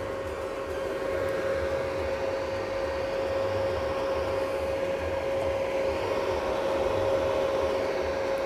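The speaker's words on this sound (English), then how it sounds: "You can hear the fan blowing cold air to cool the machine." The cooling fan inside an inverter arc welding machine blows air with a steady, close whooshing hum and a constant tonal drone that never changes.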